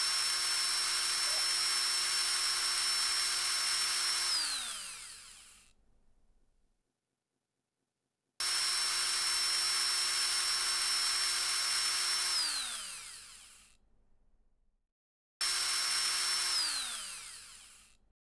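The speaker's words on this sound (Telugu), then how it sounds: "డ్రిల్లింగ్ మిషన్ తో హోల్ వేసినా గానీ ఏం కాదు" A drilling machine bores into an F31 Pro Plus mobile phone: three loud bursts of high whining motor noise, each winding down with a falling pitch before short silent gaps.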